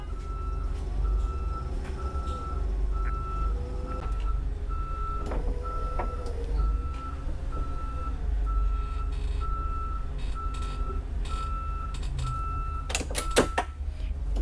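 A bus backs up in a straight line with its backup alarm beeping in a steady, evenly spaced series over a low engine rumble, heard close and continuous, with a brief clatter near the end.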